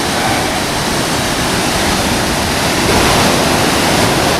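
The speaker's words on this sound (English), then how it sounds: "Lots of these little waterfalls everywhere" Small waterfall along a North Wales hiking track, a steady broadband rush of falling water that stays loud and close throughout with no talking.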